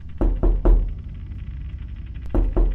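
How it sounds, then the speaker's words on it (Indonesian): Knocking on a wall from the next room at night: two heavy thuds, a pause, a quick pair of knocks, a long quiet gap, then another pair. The blows are dull and muffled but fairly loud. "suara ketukan yang berasal dari ruang sebelah"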